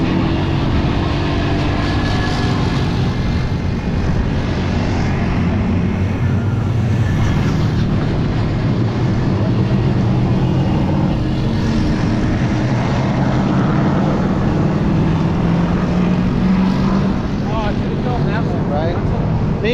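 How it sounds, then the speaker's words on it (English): Jack Daniels NASCAR stock car engine at Texas Motor Speedway during a driving school, a loud continuous roar that stays close and steady for the whole stretch, with faint voices mixed in. "the Jack Daniels car by far has the best sound"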